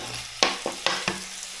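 Cubed chicken hitting hot oil in a pan, a few sharp scrapes and clatters over a faint hiss, four quick knocks within about a second, close and fairly quiet.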